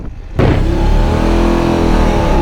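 A BMW F850 GSA motorcycle engine roars up as the bike pulls away hard, a loud, sustained rising rev with no talking.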